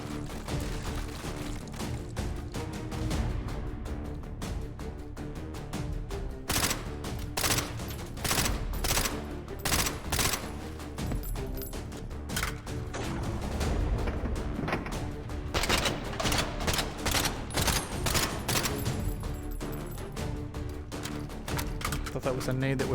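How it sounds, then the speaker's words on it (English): A thrown grenade explodes in the VR shooter H3VR, a heavy boom lost in dense, sustained automatic gunfire and repeated loud blasts that continue throughout. "that was a nade that was thrown."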